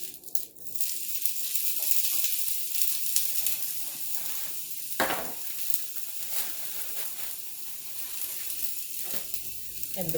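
Plant-based burgers sizzle on a grill with a continuous crackling hiss. Small pops and brief bursts rise over the steady frying noise, close and fairly loud throughout, with no talking.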